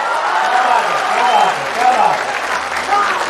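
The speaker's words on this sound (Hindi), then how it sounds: "और तालियां दोगुनी करना अगली पंक्ति पर" A crowd at a Hindi poetry gathering at a festival in Gorakhpur breaks into loud, continuous applause, with voices and cheers mixed into the dense clapping.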